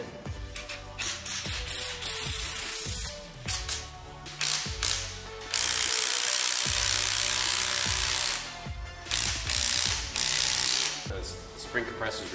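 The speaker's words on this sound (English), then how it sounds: "this is Kyle's first time using a spring compressor" A spring compressor is ratcheted on a car's front lowering spring during a suspension install on an Audi 8V RS3/S3/A3, with repeated clicking ratchet bursts, close and loud, between pauses and a longer steady mechanical stretch.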